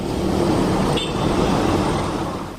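Heavy traffic streams along a busy city avenue near the presidency in Ouagadougou, cars, motorbikes and trucks blending into a loud, continuous roadway rumble with a brief passing whoosh midway.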